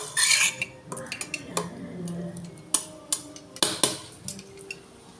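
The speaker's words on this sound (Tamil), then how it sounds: "பழைய கடாய் இருந்துச்சுன்னா அதை எடுத்து அது மேலே வைக்க போகிறோம்." An old kadai pan set on top of a biryani pot to seal it for dum cooking: a series of close metallic clanks, knocks and scrapes of cookware, loud and irregular.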